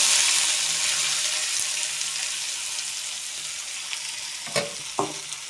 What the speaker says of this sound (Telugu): ఆయిల్ హీట్ ఎక్కింది కట్ చేసుకున్న ఆనియన్స్ వేద్దాం